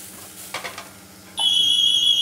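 Garlic hits a hot pan and starts frying, a few soft clatters giving way to a steady hiss that holds to the end, alone with no talk.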